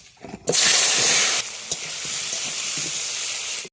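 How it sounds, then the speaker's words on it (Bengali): Vegetables, potato and eggplant, dropped into hot oil left from frying rohu fish erupt into a loud close sizzle that settles into a steadier frying hiss with a few stirring knocks. "মাছগুলো কি সুন্দর আমি ভেজে নিয়েছি ওই তেলেই আমি সবজিগুলো ভেজে নেব"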